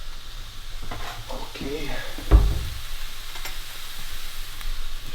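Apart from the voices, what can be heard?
turkey sizzling in a pan with browned onions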